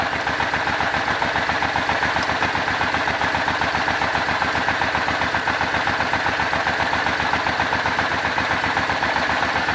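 An old Suzuki Boulevard motorcycle engine idles steadily and close by, a rapid, even low-pitched chugging with a constant rumble and no voices.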